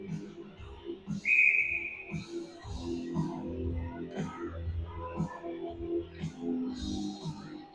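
A referee's whistle blows once, short and shrill, during an ice hockey game after a goalie save, heard over a busy arena crowd murmur and rink noise.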